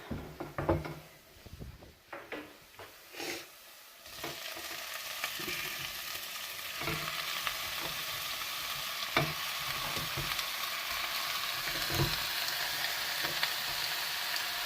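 Food sizzles and crackles in a hot pan after a few clattering knocks and stirring sounds as gizzards and onions fry, the frying growing steady and continuous.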